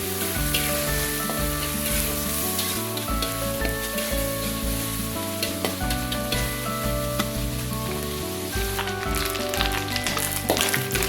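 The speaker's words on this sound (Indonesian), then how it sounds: "Di sini saya menggoreng ikan terinya sampai garing ya." Anchovies crackle and sizzle loudly and continuously as they fry in hot oil until crisp, with music playing in the background.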